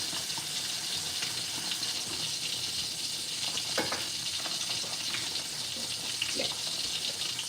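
Water pours onto a plant, making a steady hissing splash that runs continuously at low to moderate level, with no talk.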